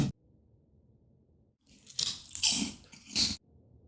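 Freshly fried homemade chips and crackers are bitten and crunched close up, a few quick crisp crunches in a burst after a quiet stretch.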